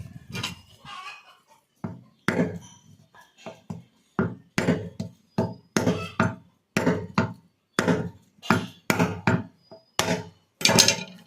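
A small coconut is cut open with sharp, repeated chopping blows, loud and close, landing in steady bursts with short pauses between strikes and no talking.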